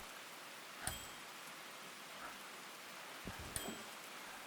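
Steady rain falling in the train-driving game Derail Valley, a soft continuous hiss with a couple of brief sharper knocks, fairly faint and with no talk.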